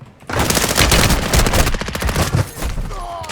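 Rapid machine-gun bursts from an SMG in Call of Duty Warzone 2.0, loud and close, firing in fast continuous volleys with short breaks and a distant boom near the end.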